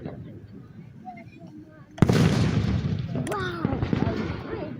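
After a quieter stretch of voices and distant pops, a fireworks show explosion hits loud and sudden, followed by rumbling bursts and crackle, with a whistling shell rising through the din and people talking around it.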